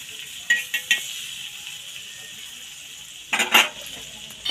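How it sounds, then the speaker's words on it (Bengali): Butter spread across a hot tawa griddle on low-medium gas for a veggie omelette: faint scraping and soft sizzling in a few short bursts, with quiet gaps between them. "এখানে দেখো আমি মাখনটাকে ভালো করে চাটুতে লাগিয়ে নিচ্ছি।"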